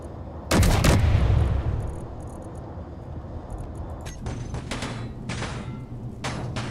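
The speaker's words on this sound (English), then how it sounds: "let's get out of your range and just let the autocannon do the work." Bursts of autocannon fire in the Space Engineers video game: a loud opening volley, then repeated sharp rapid bursts at intervals, heard alone without talk.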